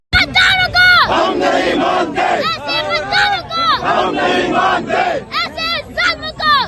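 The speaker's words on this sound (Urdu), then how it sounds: "چھوٹے چھوٹے جو بچے ہیں وہ نعرے لگوا رہے ہیں" A dense crowd at a PTI political rally in Lahore chants slogans in loud rhythmic bursts, many voices shouting close together in waves as a child leads the calls.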